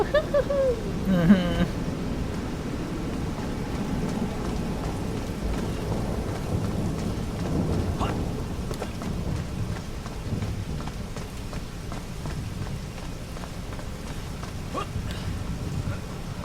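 Steady rain and rolling thunder from the video game Little Orpheus fill the scene, a constant patter with low rumbles, while people talk faintly over it.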